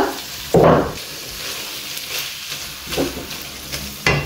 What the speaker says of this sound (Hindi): फायनली चॉप्ड ग्रीन चिलीज आनी तो बरें हालयता